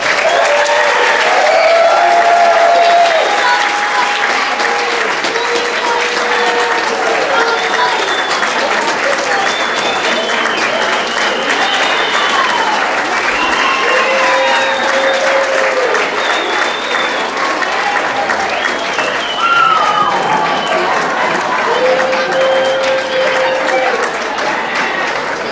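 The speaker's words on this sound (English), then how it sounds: "Let's give our now ninth graders a final round of applause." Sustained audience applause at an 8th grade promotion ceremony at a school, loud and steady throughout with crowd noise mixed in.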